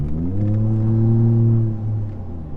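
Ford F150 engine fitted with an S&B cold air intake, heard from inside the cab as the driver lets off the gas: a loud, steady low drone that swells and then eases down, with no talk over it.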